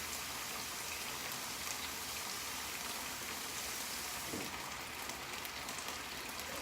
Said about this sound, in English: I'm just going to rinse this off real quick.